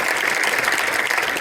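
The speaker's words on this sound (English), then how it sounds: "Can we please give these folks a big round of applause?" Dense, sustained audience applause fills the room at a symposium introduction, steady and loud throughout with no break.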